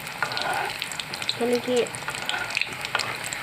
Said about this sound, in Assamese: তিনিটাকৈ ভাজিম এয়া বৰ সোনকালে ৰঙা হৈ গৈছে